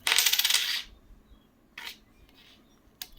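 Indian quarter rupee coin dropped and handled, a bright metallic jingle and ring for nearly a second, followed by a couple of short clinks as it is picked up and set down, fairly close.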